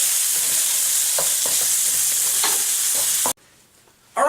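Vegetable fried rice being stir-fried in a pan, a loud continuous sizzle with scraping stirs at irregular intervals, then a brief drop to quiet before the sizzle returns.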